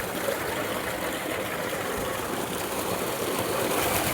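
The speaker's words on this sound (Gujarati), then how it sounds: "આપણો બોર ચાલુ કરી દીધો" Water gushing steadily from a farm borewell pump, a continuous broadband rush with a low rumble underneath, fairly close and even in level throughout, with no talking.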